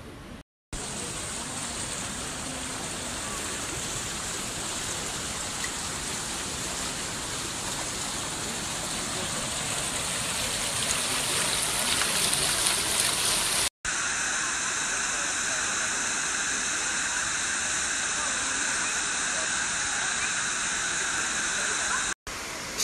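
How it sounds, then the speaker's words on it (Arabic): Steady waterfall in Croatia, a dense, even rush of falling water heard close and constant throughout, with a brief cut midway and a slightly brighter, more tonal wash afterward. "شلال جميل"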